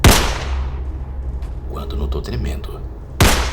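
Video game gunfire from X-Men Origins: Wolverine: two loud, sharp gunshot blasts at the start and end, with someone speaking between them.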